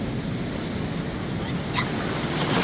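Ocean waves wash steadily onto a sandy beach with shallow tide pools, a continuous loud rushing surf with a slight swell toward the end, heard close and on its own.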